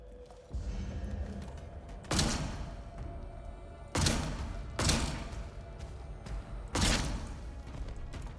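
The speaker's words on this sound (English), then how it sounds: "What is the secondary explosion that happened?" Explosions in the video game Atomfall, several heavy booming thumps spaced a couple of seconds apart over a rumbling, crackling game background.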